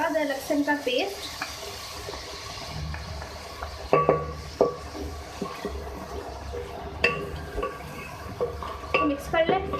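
Ginger garlic paste stirred into chicken frying in a pan, a steady sizzle beneath repeated clanks and scrapes of a metal spoon against the pan, close and prominent throughout.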